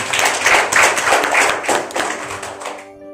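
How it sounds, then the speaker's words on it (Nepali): A church congregation claps hands together in a loud, dense burst of applause that carries on for about three seconds before cutting off abruptly, with a faint hum lingering underneath. "एकचोटि एलिया अगमवक्तालाई हामी ताली बजाएर धन्यवाद दिउँ।"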